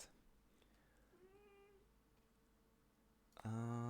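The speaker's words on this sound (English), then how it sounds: "Can you hear my cat?" A pet cat meows indoors: first a faint, wavering mew partway through, then a loud, close, harmonic meow at the end over a quiet background hum.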